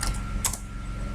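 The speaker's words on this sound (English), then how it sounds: "we're going to type in anodized aluminium" A few quick keystrokes rattle on a computer keyboard as a short burst of clicks close by, over a steady low hum in a quiet room.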